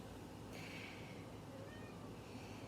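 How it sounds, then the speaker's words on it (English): A house cat gives a faint, brief meow indoors against steady low background hiss. "My kitty says hi."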